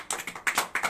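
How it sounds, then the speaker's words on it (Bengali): A handful of sharp, close claps ring out in a drawing class as students applaud a classmate, uneven slaps arriving in quick bursts over about a second. "সবাই রিঙ্কুর জন্য জোরে হাততালি দাও।"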